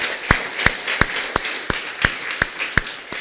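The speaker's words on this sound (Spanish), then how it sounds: "Dale un aplauso a nuestro Padre Celestial hasta el día de hoy." Applause during a Spanish-language evangelical sermon: a congregation claps in a steady rhythm of sharp, evenly spaced claps, moderately loud and without talk.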